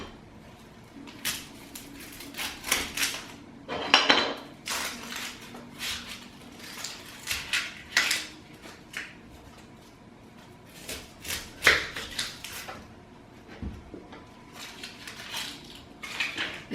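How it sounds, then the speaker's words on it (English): A knife chops a plain cooking onion on a cutting board, with irregular close thuds and scraping over about seventeen seconds and some brief pauses, heard alone with no talk. "I think I'm going to chop up a little bit more onion too."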